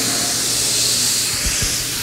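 A Titomic robot arm spraying metal powder onto a plate gives a steady, loud broadband hiss that holds throughout, with a couple of low thumps near the end.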